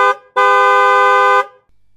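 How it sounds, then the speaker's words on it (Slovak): A cartoon tow truck's horn blasts right in front of a sleeping farm tractor: a brief toot, then one loud sustained honk of about a second, alone and close. "Mater zatrúbil priamo pred jedným zo spiacich traktorov."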